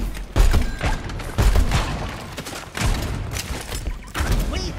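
Bombs explode in the Overwatch 2 video game as a run of heavy booming blasts, about four loud bursts spaced roughly a second apart over a dense, busy battle din.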